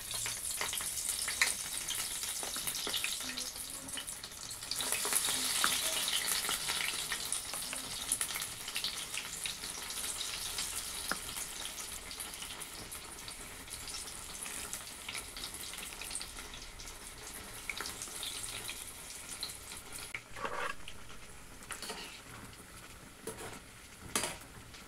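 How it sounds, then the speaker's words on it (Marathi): Small onion and dal bhajis frying in hot oil, a steady crackling sizzle throughout with brief bubbling bursts, close and fairly soft. "आता आपण छोटी छोटी अशी भजी काढून घेऊया."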